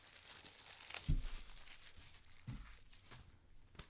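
A Magic: The Gathering MOM collector booster box is being opened, with quiet crinkling and tearing of plastic wrap and cardboard. Two firmer rustling bursts come about a second and a half apart over a faint background.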